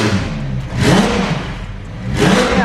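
A Nissan R35 GT-R with downpipes and a full exhaust revs loudly up close, two throaty surges rising out of a steady rumbling idle.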